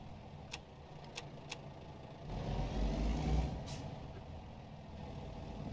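A big rig's air brakes hiss while parking beside a logging truck in American Truck Simulator, a steady engine rumble swelling mid-way under a short bright release of air and a few faint clicks.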